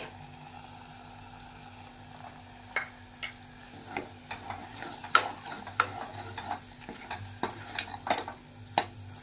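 Masala spices for a Marathi chavli (black-eyed pea) curry sizzle gently in a pan while a spoon scrapes and stirs, giving irregular sharp clicks against the metal over a soft, steady frying hiss.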